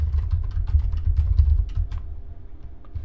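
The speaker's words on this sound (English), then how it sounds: "Sorry, I was typing." Quick bursts of keystrokes clatter on a computer keyboard, close and fairly loud, in an uneven run of taps that thins out and fades toward the end.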